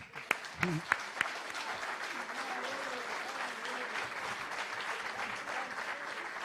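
Applause from the audience at a book fair closing debate, a steady wash of clapping that starts after a few sharp claps and holds at moderate loudness.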